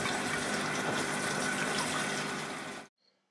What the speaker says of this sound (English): And cover with cold water again.